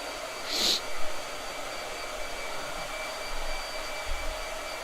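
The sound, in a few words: hair dryer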